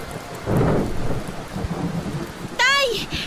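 Heavy typhoon rain pours steadily with a deep rumble of thunder, loud and close, then a sharp high cry cuts in near the end.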